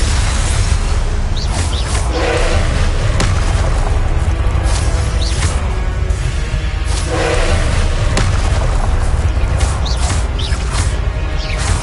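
Magic spells in a Harry Potter game burst in a dense, loud barrage of booms, thuds and whooshing impacts, repeated crashes arriving every second or two over a constant rumble.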